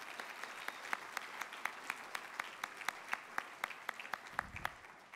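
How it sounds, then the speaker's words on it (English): Conference audience applauding the speakers at a collegiate entrepreneurs' event, a sparse, moderate patter of individual claps spread across the room, steady throughout with a brief low rumble near the end. "please join me in a round of applause for all of the speakers at this year's conference"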